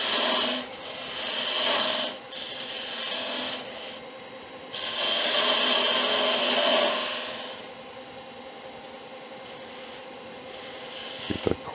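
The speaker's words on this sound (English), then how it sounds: "Top of the head is going to have to be hand sanded." Close, steady rasping as abrasive is rubbed by hand over the head of a wooden Venus figurine on a lathe, in long continuous strokes with brief pauses and a few small knocks at the end.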